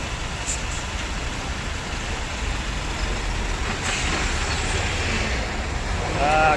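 A loaded truck creeps forward in a queue at the Maharashtra border, its engine a steady, close, broad rumble that grows slightly louder toward the end.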